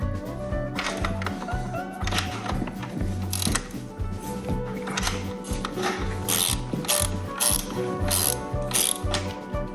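A ratchet works a bolt loose from an SW Motech crash bar on a 2021 Honda CB300R, producing steady, close pawl clicking over a continuous mechanical background.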